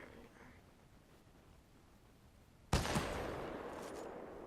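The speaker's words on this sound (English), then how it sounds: "I'm just playing around with the guns to see what they are." Video game guns fire in a sudden loud burst of shots partway through, after a stretch of quiet background, then ring out and fade.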